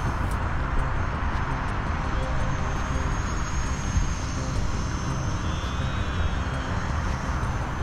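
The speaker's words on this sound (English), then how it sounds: "I've angled the motor down so when I open the throttle it doesn't go up so much" Steady buzzing whine of an electric RC plane motor and propeller in flight during a maiden flight over an open field, continuous and fairly loud throughout with wind noise mixed in.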